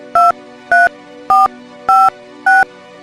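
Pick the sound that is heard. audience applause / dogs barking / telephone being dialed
telephone being dialed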